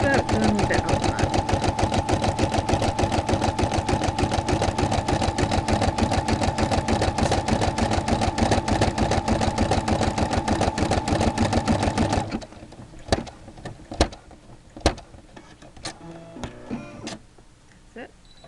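A Brother SE-400 embroidery machine stitches with a fast, steady mechanical rattle for about twelve seconds, then stops, leaving a few scattered clicks and handling knocks.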